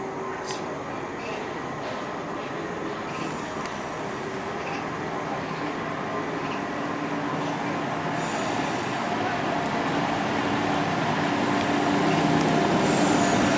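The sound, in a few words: train pulling out of a station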